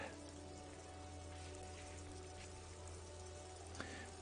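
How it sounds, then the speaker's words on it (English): Rain falls steadily over the city of Revachol in the video game Disco Elysium, a soft, quiet patter over a low hum. "All around you, rain falls on the great city of Revachol."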